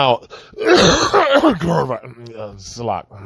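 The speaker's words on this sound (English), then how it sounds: "to clear my throat" A man clears his throat with a rough, gravelly rasp that runs into a low groan, close and loud, with no words spoken.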